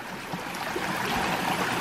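A river in the Selva Negra rain forest of Nicaragua rushes and gurgles in a steady, broad wash of flowing water, close and fairly soft, with no voices.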